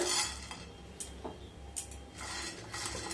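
Whole spices, including peppercorns, being dry-roasted in a pan over low heat, with faint scraping and light metallic clinks of stirring against a quiet background.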